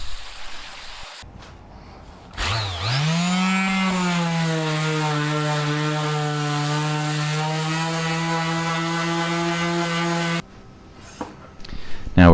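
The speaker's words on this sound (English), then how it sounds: "finishing off with the orbital sander." Orbital sander working cut wooden cabinet pieces, a loud close steady whirring drone that spins up, holds for about eight seconds, then stops, with quieter handling noise before and after.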